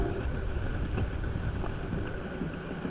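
Outdoor wind in Iceland buffets the microphone as a steady, loud broadband rumble with gusty low-end roar, lasting throughout with no voices.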